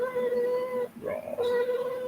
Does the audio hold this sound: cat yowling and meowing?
yes